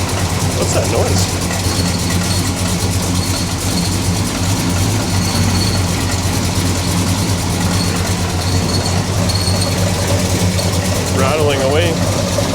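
A big block Chevy engine in a Pontiac idles with a steady low rumble and metallic rattle, loud and close, while people talk over it.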